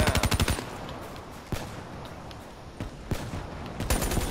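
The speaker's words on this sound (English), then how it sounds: "Just constant sniper fire." Rapid gunfire from Call of Duty Black Ops III multiplayer: a fast burst of shots at the start, then scattered single sharp cracks spaced through the rest, loud and close with game ambience between.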